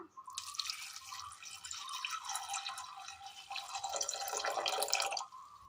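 Water is poured into a curry pan, a bright, splashing trickle that runs steadily for several seconds close by before cutting off.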